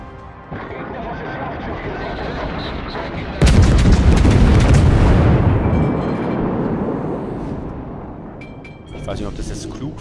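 The battleship Kongo in World of Warships fires a main-gun salvo: a sudden loud boom cuts through a low engine rumble, then rolls into a long, heavy decay.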